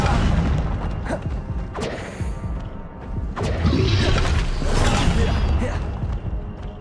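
Incendio fire spell cast in Hogwarts Legacy, a loud roaring whoosh of flame with crashing bursts and booms repeating over several seconds, dense game sound effects throughout.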